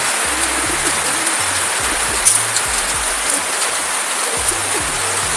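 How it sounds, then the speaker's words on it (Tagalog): Steady, dense rain pours down outdoors during a pigeon race, a continuous near hiss of drops on surfaces with no pauses and faint bird sounds beneath. "Yan, yung panahon, ulan."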